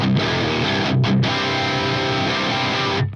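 Heavily distorted electric guitar playing thick, saturated chords through a Friedman HBE amp model on an Axe-Fx III, loud and raucous, with a couple of brief gaps before ringing out.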